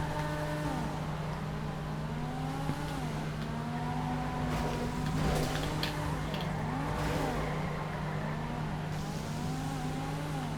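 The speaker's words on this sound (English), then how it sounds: "I'm going to give this thing a little bit of a drive" A Karin 8S95 car is driven in GTA V, its engine note rising and falling through repeated gear shifts over a constant hum, loud and continuous with no talking.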